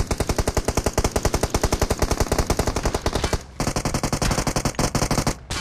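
Sustained automatic gunfire in PUBG Mobile, rapid loud bursts in a steady rhythm, broken by one brief pause before the firing resumes, close and dominant.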